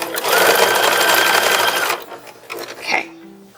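A sewing machine stitches lace onto an infant dress in a fast, even whir that runs for about two seconds, then stops, followed by a few softer handling clicks and brief movements.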